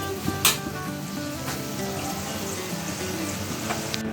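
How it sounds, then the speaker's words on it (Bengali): Fish curry gravy simmers and bubbles in a pan, a steady dense crackling sizzle with a few sharper clicks, continuous and close throughout. "ঝোলটা ফুটে উঠছে"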